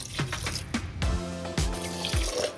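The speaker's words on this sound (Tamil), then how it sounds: "கறி வேகிறதுக்கு தேவையான அளவுக்கு தண்ணி வந்து சேர்த்துக்கலாம்" Water is poured into a pot of Kayalpattinam-style kalari curry in a few short, close splashing gushes with brief gaps between them.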